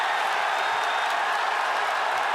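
A large crowd at a fight event roars in a dense, continuous wash of cheering and applause, loud and unbroken throughout.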